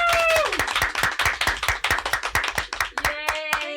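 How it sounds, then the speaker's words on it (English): A small podcast audience claps for an arriving guest, with distinct individual handclaps in an uneven rhythm, close and fairly loud, while a voice and a few tones sound at the start and end. "Please give a round of applause for Karen Tansky."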